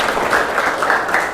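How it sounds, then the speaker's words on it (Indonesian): A classroom of students claps for a classmate named Nadib, a short, lively patter of many hands at close range, fairly even throughout with no talking over it. "Tepuk tangan buat Nadib ya."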